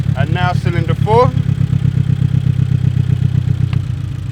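An Abarth 500 engine idles with the cylinder 4 coil unplugged, a steady low throbbing idle that sags in speed, close and continuous beneath someone talking at the start.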